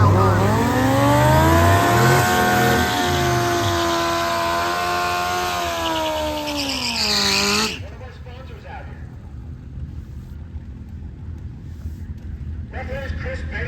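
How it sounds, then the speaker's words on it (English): A race car at a mountain race week time trial accelerates hard, engine note climbing through gears loud and close for about eight seconds before dropping away into distant engine drone, with a commentator's voice over it. "here goes Jason for his time trial run."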